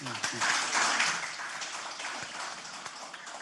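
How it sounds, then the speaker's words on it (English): Brief round of applause from a Rotary meeting audience, clapping swelling early then thinning out, with a voice briefly heard at the start. "Let's give them a round of applause."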